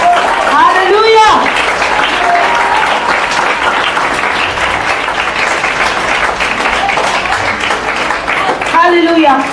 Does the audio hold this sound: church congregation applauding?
yes